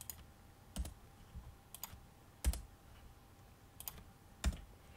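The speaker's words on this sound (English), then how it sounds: "all you have to do to change the text is click on these and press backspace" Computer keyboard keys pressed in small bursts, with several quick clicks and then a harder single tap repeated at intervals, close and fairly quiet against a low background hum.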